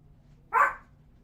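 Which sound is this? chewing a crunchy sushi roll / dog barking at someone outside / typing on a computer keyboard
dog barking at someone outside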